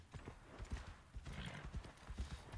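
Horse hooves in Assassin's Creed Valhalla clip-clop in a quick, steady rhythm, fairly soft and close, with no talking.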